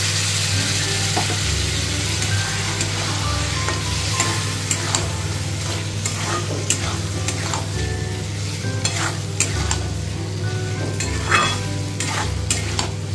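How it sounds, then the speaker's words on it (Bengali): Egg and potato curry masala (dim aloo dalna) stir-fried in a pan: a continuous sizzle under repeated scraping and clinking of a spatula, steady and close, with no talking. "আবারও খুব ভালোভাবে এটা কষিয়ে নিতে হবে।"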